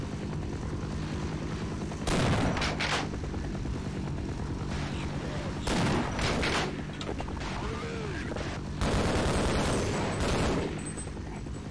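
Gunfire crackles in Half-Life: Decay as a Barney guard is shot, coming as several loud bursts over a constant heavy rumble of game background noise.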